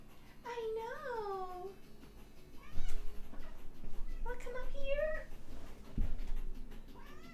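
A pet cat meows indoors in two drawn-out, rising-and-falling calls, close and fairly loud, with a person's soft voice and light handling noise in between.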